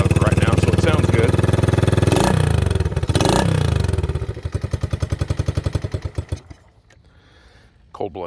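A restored 1971 Honda SL70 motorcycle running cold with its spark arrestor removed, a loud close putter that revs, then slows into distinct chugging pulses and dies out near the end.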